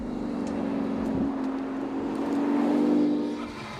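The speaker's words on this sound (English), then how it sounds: "allowing the sound of that M158 AMG V12 to flood the utterly awe-inspiring" Inside the cabin of a Pagani, its Mercedes-AMG M158 twin-turbo V12 gives a steady, loud, throbbing drone that swells slightly before easing off near the end, with no talking.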